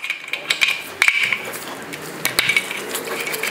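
A 10 mm ratchet wrench clicks in short bursts while removing the oil level sensor from a 2.0 HDi engine on a Citroen Jumpy, with metallic tool clatter close by and no talk.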